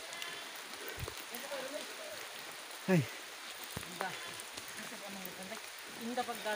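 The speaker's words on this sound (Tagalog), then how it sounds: "Dito na rin yung pumatak ang ulan." Steady rain falls with a soft hiss throughout, while a voice cries out briefly and faint talk is heard under it.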